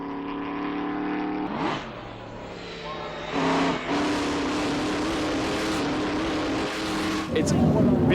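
A privately owned vintage Alfa Romeo racing car driven at Goodwood, its engine note loud and close with rising revs and pitch shifts as it accelerates and changes gear, running continuously throughout.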